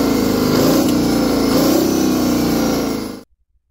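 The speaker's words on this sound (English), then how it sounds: "Fire up a Detroit diesel 671, and the sound that erupts from its exhaust stack isn't just noise" A Detroit Diesel 6-71 two-stroke engine runs loud and steady near its exhaust stack, with a harsh mechanical roar that rises in revs, then cuts off abruptly near the end.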